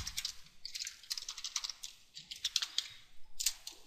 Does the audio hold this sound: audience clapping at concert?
no